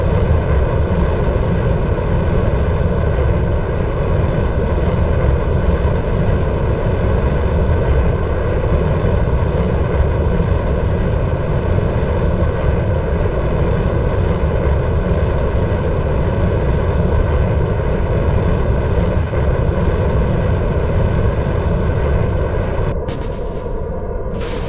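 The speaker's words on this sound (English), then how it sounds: "now the center engine is firing" Rocket engines fire in the video game Kerbal Space Program, the center engine lit after the strap-on boosters drop, giving a loud, steady, broadband roar that holds unbroken before cutting off near the end.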